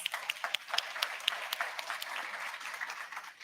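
Sparse, fairly faint applause from an audience at an official World Food Day event, with distinct individual claps standing out early before thinning into a softer patter.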